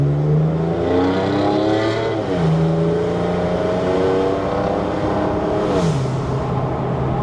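A Ford F-series truck engine with 145,000 miles, freshly fitted with MSD ignition coils, runs loud and close, its steady tone dipping and rising through a few revs.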